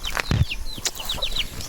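An old backyard hen close by, about to lay, gives quick, uneven clucks with a short flutter of wings partway through.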